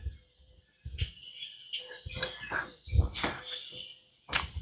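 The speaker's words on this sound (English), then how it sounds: "Mockingbird just came for morning breakfast" A mockingbird sings outdoors in the morning, giving a series of varied chirps and whistled phrases at moderate distance, with a voice talking between and over the calls.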